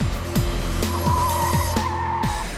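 Race cars skid at the Buddh International Circuit in India, tires squealing in a loud harsh screech over a pulsing, revving engine drone with repeated gear-change sweeps, close and continuous for a couple of seconds.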